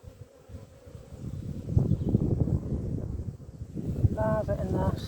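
Honey bees hum at an open beehive with a low, wavering buzz under wind noise and handling sounds, while a person talks nearby.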